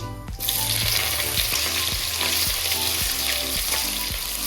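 Hot oil bursts into a loud, steady sizzle as dried chillies, whole garam masala, cumin and chopped onion hit the pan, with regular scraping stirs cutting through the hiss.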